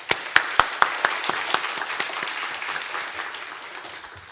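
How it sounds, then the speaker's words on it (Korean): Applause welcomes a pastor to the front at a Wednesday church worship service, opening with a few loud, separate claps that swell into a steady ripple of clapping from the congregation, then taper off. "우리 그런 의미로 박수로 앞으로 모시도록 하겠습니다"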